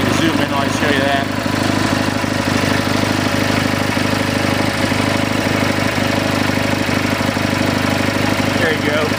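A Cub Cadet 1420 Hydro lawn tractor engine idles loud and close. Its steady mid-pitched rumble runs without a break through the whole stretch.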